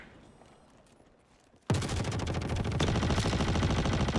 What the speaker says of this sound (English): I was just shot. Another shot. I'm under fire.